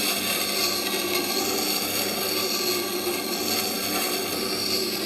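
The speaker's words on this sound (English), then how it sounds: "place the chisel on there gently, remove it from left to right using the full width of the grindstone to get that edge" A chisel ground on a Scheppach Tiger 3000VS wet grindstone, drawn left to right across the full wheel width under light pressure, giving a steady, continuous abrasive rasping hiss with no pauses.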